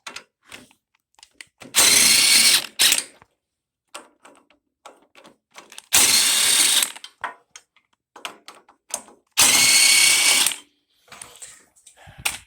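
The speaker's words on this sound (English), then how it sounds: "Now let's finish the head. Taking the bolts out of it." Cylinder head bolts come out of an 18.5 horsepower Briggs engine on a John Deere LA100 lawn tractor, with three loud bursts of rapid ratcheting separated by quieter clicks and metallic handling.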